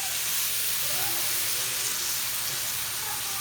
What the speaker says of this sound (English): my steak that is seasoned on both sides, I'm going to go ahead and drop that on